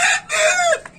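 A loud red rooster crows up close, its long call rising and falling, followed by a brief cluck from a hen.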